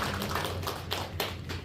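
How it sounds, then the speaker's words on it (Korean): A congregation at Haean Central Church, a Korean Presbyterian church, applauds during a children's department graduation, giving a steady wash of clapping with a few sharper claps standing out. "박수 좀 주세요"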